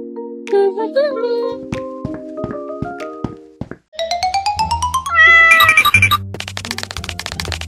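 A cat meows repeatedly in a kitchen where a miniature chocolate cake is being made, its cries close and loud, rising and falling in a string of distinct calls, with chimes and clinks of small utensils mixed in.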